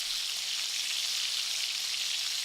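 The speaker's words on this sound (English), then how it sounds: "set the machine where it sounds like bacon frying" A MIG welding arc crackles with a steady, even sizzle like bacon frying, constant and moderately loud for the whole stretch with no talk.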